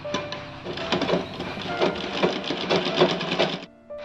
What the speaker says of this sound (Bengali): তো আমিও এই সেলাইটার পাশে আরেকটা সেলাই দিয়ে নেবো, এভাবে একটুখানি গ্যাপ দিয়ে।